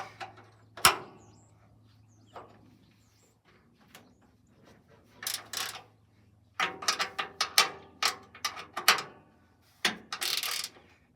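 Older bolts being snugged up on a radiator install: sparse mechanical clicks and ratcheting bursts, clustered and intermittent, close and moderately loud over a quiet background with a faint low hum.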